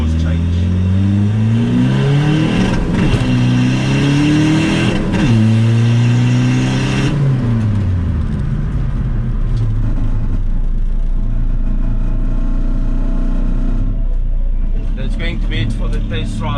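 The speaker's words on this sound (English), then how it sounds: "See how it won't make full boosting first and then you hear the exhaust change." A big-turbo VW Polo TDI diesel accelerates hard from inside the cabin, engine pitch climbing through several gear changes before settling into a deep, steady exhaust rumble.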